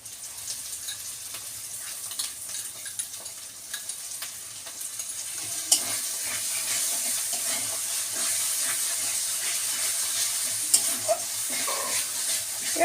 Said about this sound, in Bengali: এবার সমানে নাড়তে হবে,